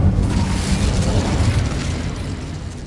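A Bombarda blast spell in Hogwarts Legacy erupts as one loud, sustained explosive roar that slowly fades over a few seconds, heard alone.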